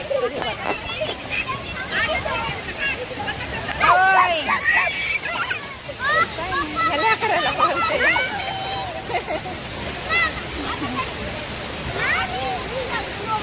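Water splashes and sloshes continuously while children shout and chatter nearby over the wash of water.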